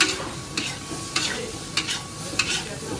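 Food frying in a pan is stirred, giving a steady sizzle broken by repeated scraping strokes roughly every half second, close and moderately loud with no talking.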